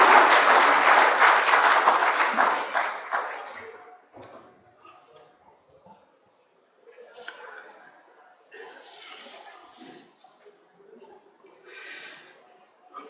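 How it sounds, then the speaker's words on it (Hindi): A crowd in Indore claps to welcome a guest at the launch of a road-safety motorcycle rally, a dense burst of applause for about three seconds that thins out into a few scattered claps and small sounds. "आप सभी तालियां बजाकर स्वागत करेंगे"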